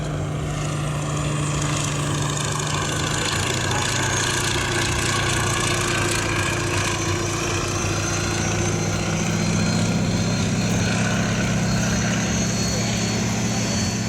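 The radial engine of a Fairey Swordfish biplane drones steadily and loudly throughout an air show display at Abingdon, a continuous propeller hum that swells slightly as the aircraft passes.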